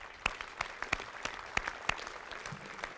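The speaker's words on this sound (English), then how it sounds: "Please join me in a round of applause for our bayonet soldiers" Sparse applause from an audience at a military change of command ceremony, scattered individual claps fairly faint and distant, a few sharper hand claps standing out over a quiet background.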